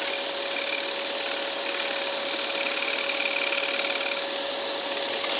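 A saw blade trims wood for a Mission-style clock, giving a loud, continuous whine with a steady pitched tone and no pauses.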